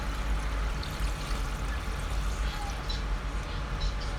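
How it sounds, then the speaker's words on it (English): Water pours steadily into a cooking pot holding chicken feet for a Pakistani-style curry, a continuous rushing splash at close range with no pauses. "I will put now the water, and I will boil this."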